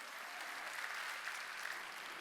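A large church congregation applauds steadily for a couple of seconds during a Wednesday worship service, dense clapping heard from a moderate distance without speech.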